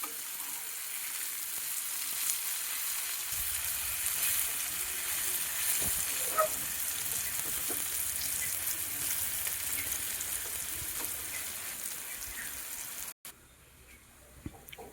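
Fish fries in a pan over a medium flame, giving a steady, close crackling sizzle that runs unbroken until a brief clatter and a drop in level near the end.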